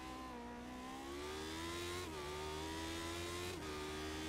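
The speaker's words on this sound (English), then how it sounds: "Oh, look how quickly those revs go up." An engine on a GT race car at a circuit revs continuously and climbs steadily in pitch, with two brief dips at gear shifts, droning loud and unbroken throughout.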